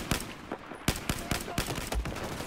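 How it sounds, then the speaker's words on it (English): Battlefield 4 gunfire cracks out in a rapid series of sharp shots spread across a few seconds, loud and close, with game battle noise underneath. "I shot the guy like 5 times"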